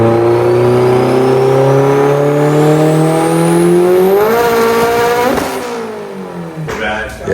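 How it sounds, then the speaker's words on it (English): A Mitsubishi Evo on a stock block with an AGT twin turbo revs hard with a slipping clutch, its loud engine note climbing steadily in pitch, then cutting back and dropping off near the end. "So I hope that clutch did not just start slipping."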